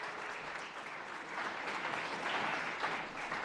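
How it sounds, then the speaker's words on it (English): An audience at a school Veterans Day breakfast claps warmly and steadily, a dense sustained patter of many hands that swells slightly toward the end. "Yeah, we can clap."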